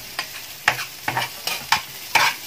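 Onions fry in a pan for corned beef spaghetti and are stirred in quick, close scraping strokes, about six bursts over a faint sizzle.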